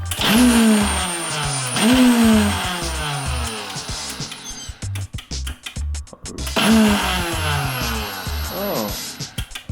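A small Nutribullet-style blender whirs in short, loud pulses, with several bursts rising and cutting off, heard up close and mixed with motor whine and handling noise.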